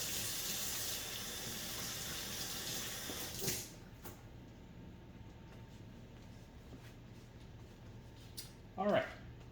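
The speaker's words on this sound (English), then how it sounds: "I'll wash real quick." Tap water runs steadily into a kitchen sink while hands wash, with a couple of louder splashes and clinks near the middle and end, close and continuous throughout.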